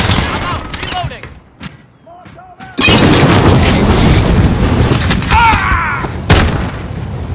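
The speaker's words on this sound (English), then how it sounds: "Flashbang out!" Flashbang grenade and gunfire in Call of Duty Modern Warfare, sparse shots and a muffled lull, then a sudden loud bang followed by a dense burst of gunfire and a later sharp blast, with a voice briefly calling out.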